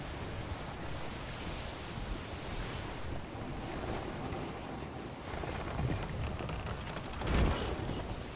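Steady ocean wash and wind noise surround a sailing ship in the ATLAS pirate game, a broad continuous rush at moderate level with a slightly louder surge near the end and no voices.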